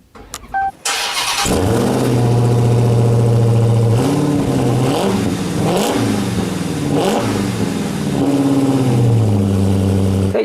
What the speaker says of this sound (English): let's start with a cold start.